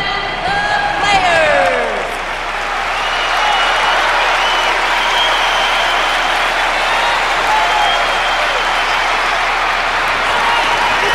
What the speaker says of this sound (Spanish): Venga, aplaudimos, claro que sí.